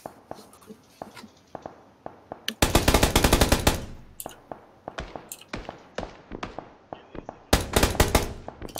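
Automatic gunfire in the battle royale game PUBG: scattered single shots early, then two long loud bursts of rapid fire, with more shots in between.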